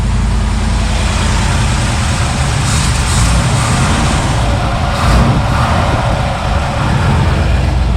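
A 1961 Pontiac Laurentian, running for the first time in 30 years on a swap-meet carburetor, idles loudly and evenly, its steady close engine rumble continuing without a break.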